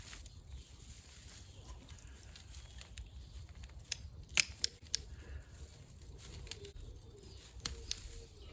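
Garden shears trimming browned growth off a topiary give a few sharp, scattered snips close by, alone over faint outdoor ambience with birds calling in the background.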